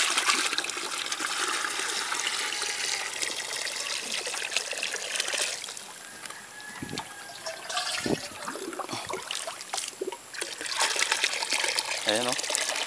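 Water streaming and trickling into a container while filling, a steady splashing rush for most of the time, with a voice speaking over it and a few louder splashes near the end.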